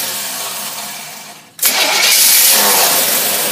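A car engine fitted with a Rochester two-barrel carburetor cranks and fires, going from a fading whir through a brief drop to a loud, steady running roar up close.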